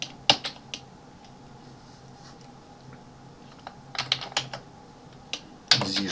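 Typing on a computer keyboard during Mathcad 14 work: sparse, close key clicks, a few isolated taps, then a quick cluster of strokes and a final sharp burst over a quiet room hum.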